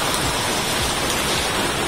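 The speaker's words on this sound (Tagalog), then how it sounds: "Medyo maingay kasi lakas ang ulan dito sa Balagtas" Heavy rain pours down in Balagtas, Philippines, under dark storm-like clouds, in a dense, constant hiss, loud and close, with no pauses across the whole stretch.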